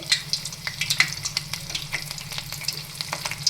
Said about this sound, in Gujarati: આ રીતે આપણે ગળણીની મદદથી તેને તેલમાં તળવાના છે